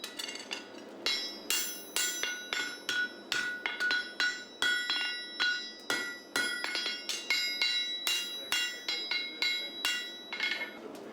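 A farrier hammers a punch through a heavy horse shoe to make stud holes, a steady run of sharp, ringing metallic strikes about once or twice a second, close and loud with no talk.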